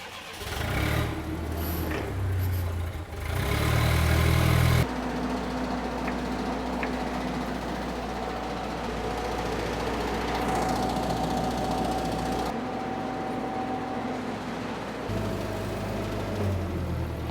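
A newly acquired machine's engine cranks and then catches, settling into a steady droning idle with a faint whine. It is close and fairly loud, and the pitch shifts a little over time.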